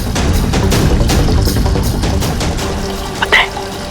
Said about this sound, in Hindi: अब बस नल में से पानी बहता रहेगा और टंकी खाली हो जाएगी